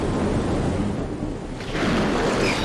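A thunderstorm in Shenmue II on the Dreamcast: a steady, loud low rumble of thunder and rain-like noise that swells again near the end, with no voices.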